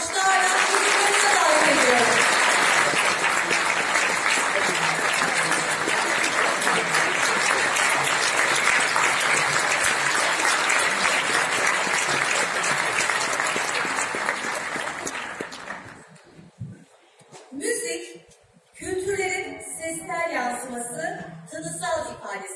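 A concert audience applauds a world ethnic music choir's conductor with dense, sustained clapping for about fifteen seconds, then it thins out and gives way to a speaker's voice.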